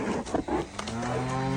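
Cows moo on a farm during calving season, one drawn-out low bellow that rises and holds toward the end. It is close and loud, with a few shorter grunts before it and no speech.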